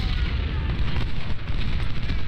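Cannon fire with canister shot rumbles through a Civil War battle in Ultimate General: Civil War, a dense continuous roar of booming blasts and crackle, loud and sustained throughout.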